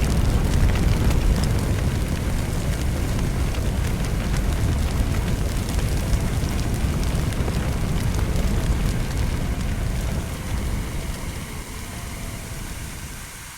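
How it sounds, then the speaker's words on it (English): Water spray on a fire in the game Firefighting Simulator: The Squad makes a loud, continuous rushing roar. It stays dense and steady for many seconds, then eases and thins slightly toward the end. "Get close to the fire"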